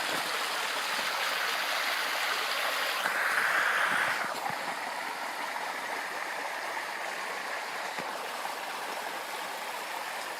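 A clear freshwater stream rushes steadily over its bed in a continuous, fairly loud wash with no pauses, and no voices rise above it.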